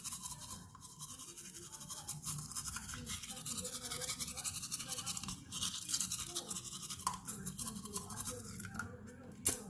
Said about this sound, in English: I'm gonna go in and I'm gonna just brush my gums gently, especially the gum line